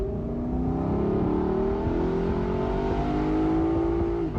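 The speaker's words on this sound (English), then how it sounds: "So a naturally aspirated V8 engine" A powerful naturally aspirated V8 engine of a Lexus LC500 convertible revs steadily and loudly, its tone climbing and holding as it accelerates, close and continuous with no voices.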